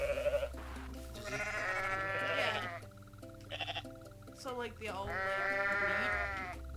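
Goat bleats from the video game Goat Simulator ring out over background music, with a person talking at the start.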